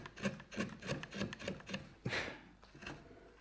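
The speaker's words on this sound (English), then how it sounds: "We then got the hand sanding" A wood carving is sanded by hand, close rhythmic rasping strokes in a quick back-and-forth pattern, then a few slower, scattered rubs.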